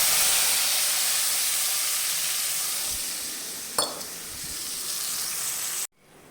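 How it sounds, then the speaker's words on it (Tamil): Dissolved tamarind water hits a hot pan of turmeric and asafoetida for bisibelebath, giving a loud, steady sizzling hiss that slowly eases, with a brief clatter before it stops abruptly. "கரைச்சி வச்ச புளியை ஊற்றிக்கலாம்."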